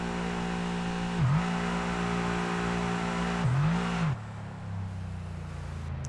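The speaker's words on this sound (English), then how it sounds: "Let's listen to the sound of the car." An F1 22 supercar's engine drones steadily in a racing video game, dipping twice in pitch as if shifting or lifting, then dropping to a quieter idle-like hum near the end, with no talking.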